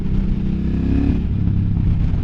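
A KTM motorcycle engine, orange and blue, runs loud and close with a steady, rough low rumble and slight revving surges throughout, no voices over it.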